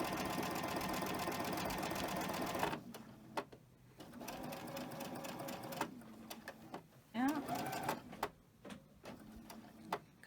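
A sewing machine stitches cotton fabric in a steady, dense mechanical whir for nearly three seconds, then stops; a person talks afterward amid soft fabric handling and brief bursts of stitching.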